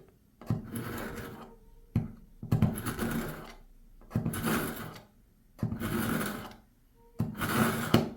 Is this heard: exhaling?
no